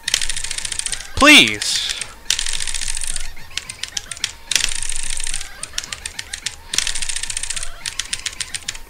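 Computer keyboard keys hammered in fast, dense bursts while playing the rhythm game Etterna, clattering loudly and nearly nonstop with brief gaps, and a player's voice briefly cries out over the typing.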